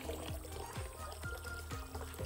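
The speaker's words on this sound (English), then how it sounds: "just gonna fill up a, this wok with water" Water pours steadily into a wok in a village kitchen in China, a continuous splashing rush with rising pitch sweeps as the vessel fills, close and alone.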